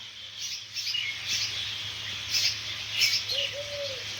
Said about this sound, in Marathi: तिकडं एवढा आवाज येतोय ना त्या पाखरांचा.